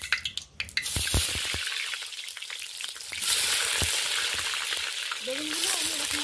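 Eggplant pieces frying in oil in a pan over a wood fire, with loud crackling sizzle, scraping and pressing sounds from a spatula, and bursts of spitting oil that swell and fade across the clip.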